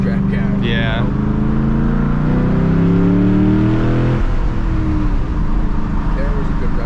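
A 2007 Ford Mustang GT revs hard on a backroad, the engine note climbing loudly and then falling away into a steady rumble, with people talking over it.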